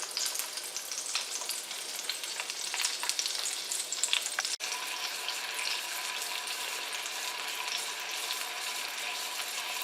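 Duck magret breast frying in a pan with its rendering fat, a steady dense sizzle running throughout at close range, with a brief dip midway and no talking.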